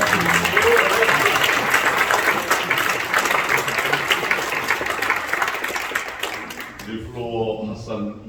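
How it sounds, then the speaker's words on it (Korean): Warm, dense applause from an audience for a speaker's wife, steady and loud before fading near the end as a voice begins talking. "내 아내를 위해서 박수를 부탁드립니다."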